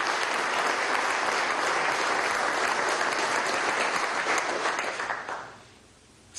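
Loud, dense audience applause at a military recognition ceremony for a major general of the Bolivarian armed forces at Fuerte Tiuna, sustained for about five seconds before cutting off abruptly into near silence.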